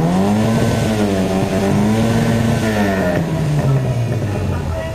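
A Mini's exhaust revs hard and sustained at the Southern Mini Days loudest-exhaust competition, the engine note climbing and wavering without a break, very loud and close.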